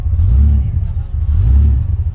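A car with a straight exhaust revs in two deep, throaty pulses, close and loud, each swell rumbling low before easing off, during preparation for a Powercruise event.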